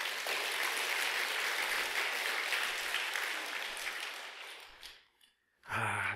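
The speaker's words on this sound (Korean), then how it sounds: "박수로." Applause from a temple congregation at a Sunday Buddhist dharma service, a dense wash of clapping that fades out after about four seconds, followed by a short silence and then a voice starting to speak.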